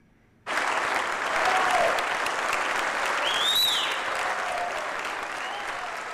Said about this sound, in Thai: ว. ของสภาคองเกรสปรบมือให้การต้อนรับประธานาธิบดีวโลดิเมียร์เซเลนสกี้เมื่อปรากฏตัวขึ้นทางจอวิดีโอขนาดใหญ ่